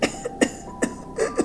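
A woman who is burning up with fever and slumped on a couch gives several short coughs. They come in quick separate bursts, close and fairly loud, with no talk between them.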